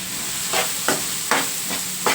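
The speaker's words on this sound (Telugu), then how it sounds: "ఇప్పుడు ముందుగా కట్ చేసి పెట్టుకున్న ఉల్లిపాయ ముక్కలు కూడా దీంట్లో వేసేసుకోవాలి ఆయిల్లోనే" Chopped onions dropped into hot oil for an egg and drumstick curry in a home kitchen, a steady loud sizzle with four brief stirring scrapes spaced about half a second apart, close up and without talking.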